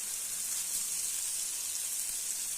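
Bell pepper frying in a pan for a breakfast of fried eggs, giving a steady, even sizzle and hiss at low level throughout, with no voices.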